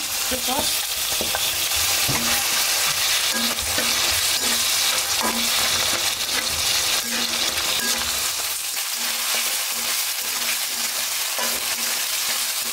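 Cubed chicken with ginger, garlic and soy sauce fries in a pan at an outdoor riverside spot, a loud continuous sizzle with the repeated scrape and clink of a spatula stirring against the metal.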